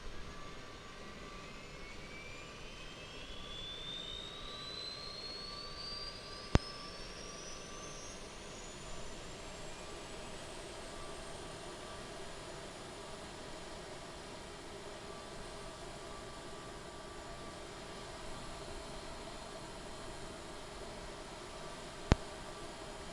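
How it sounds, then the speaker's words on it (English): An aircraft auxiliary power unit runs steadily outside the plane at Wellington, New Zealand, as a continuous whining jet-turbine roar with a rising tonal whine, broadband rushing noise and two sharp clicks. "we'll go outside and we'll listen to the APU"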